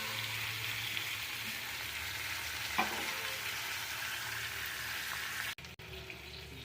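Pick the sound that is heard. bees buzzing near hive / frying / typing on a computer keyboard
frying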